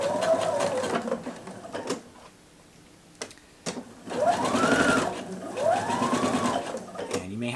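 A sewing machine stitching a dress seam 5/8 inch from the edge with a short backstitch, close whirring bursts of rapid stitching that stop, pause briefly with small clicks, then run again in two sweeping runs.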